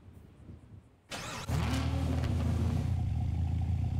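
A car engine cranks and catches, then settles into a loud, steady, rumbling idle heard up close.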